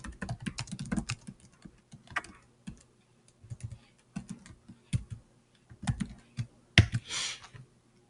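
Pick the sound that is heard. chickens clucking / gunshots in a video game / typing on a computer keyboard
typing on a computer keyboard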